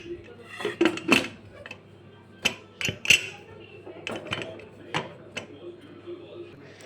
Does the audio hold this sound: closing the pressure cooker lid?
yes